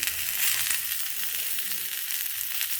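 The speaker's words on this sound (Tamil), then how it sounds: "எல்லாத்தையும் சேர்த்து நல்லா வதக்கணும்" Onion and tomato sauté in a pan, giving a steady, close sizzle and hiss with faint stirring crackles throughout and no talk.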